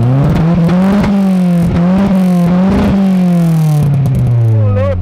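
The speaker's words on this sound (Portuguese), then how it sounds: "Meu Deus do céu, já ligou o carro, já." A car's 20XZ engine, rated around 250 horsepower, revs loud and close, its pitch swelling and dropping through several throttle blips over a rough idle.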